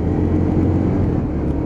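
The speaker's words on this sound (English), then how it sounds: "that big 650 V-twin engine just purring away below." A Yamaha DragStar 650 V-twin motorcycle engine runs steadily with a deep, low rumble, close and loud, with no talking over it.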